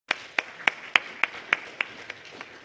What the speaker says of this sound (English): So let's give a big round of applause for Rich.